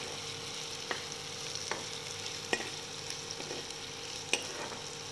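Onions sauté in a pan with a steady, quiet sizzle and frying hiss, broken by a few light clicks and scrapes of stirring.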